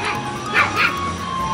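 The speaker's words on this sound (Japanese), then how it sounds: "ふーちゃん、ここに同じワンちゃんいるよ。" A small chihuahua in a home improvement store gives two quick, high yapping barks close by, amid store ambience with people talking.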